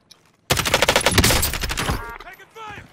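Call of Duty Warzone gunfire with a Kilo 141 rifle: a loud, close burst of rapid automatic shots erupts suddenly and runs about a second and a half, then tails off as a voice calls out.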